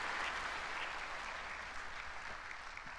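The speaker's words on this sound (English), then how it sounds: "Please give the performance another big round of applause." A large audience at a ceremony marking the 105th anniversary of the March 1st Movement applauds after a performance, a steady, even wash of clapping that stays at a constant level throughout.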